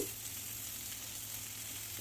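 Eggplant, tomatoes and garlic frying on a low flame, a faint steady sizzle with an even hiss throughout.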